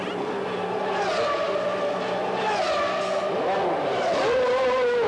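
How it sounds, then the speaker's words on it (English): A 1991 Formula One car makes a pit stop and pulls away, its high engine whine rising and falling under continuous commentary, with a brief squeal near the end. "Here's Ayrton Senna's tyre stop, a record 5 seconds stationary"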